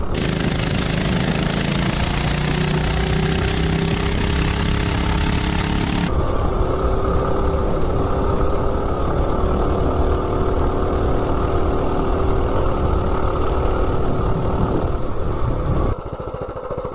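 A stock mini bike engine with an 18-tooth clutch runs steadily and close by, buzzing at a constant pitch and shifting slightly in tone partway through.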